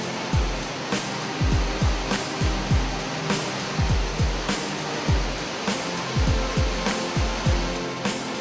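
Cascading falls on the Sunwapta River in Jasper National Park, Canadian Rockies, give off a constant broadband roar of rushing water, broken by regular low buffeting thumps.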